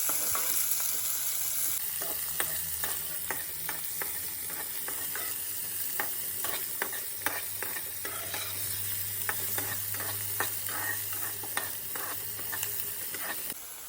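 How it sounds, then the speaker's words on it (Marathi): Finely chopped onion being stir-fried in a pan until browned, steady loud sizzling with a rapid series of spatula taps and scrapes throughout, no talking. "हा आता कांदा बराच तांबडा होईसर भाजायचा आहे"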